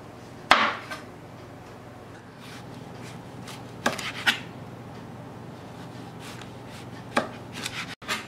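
A knife slices through zucchini on a cutting board, giving sparse, sharp taps and knocks at irregular intervals, close and clear, with one louder chop near the start.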